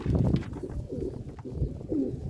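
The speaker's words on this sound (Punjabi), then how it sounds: "ਇਹ ਪੰਜਵਾਂ ਕਬੂਤਰ ਹੀ ਜੀ" Low, soft pigeon coos repeat in a slow rhythm, a few throaty calls close by with quiet background, at a racing pigeon competition.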